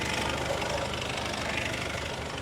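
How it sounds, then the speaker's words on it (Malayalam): A 2015 Honda City diesel car idles just after starting, giving a steady, close, even engine rumble with a faint knocking texture and no talk. "നല്ല സ്മൂത്തായിട്ട് വണ്ടി സ്റ്റാർട്ടായിട്ടുണ്ട്"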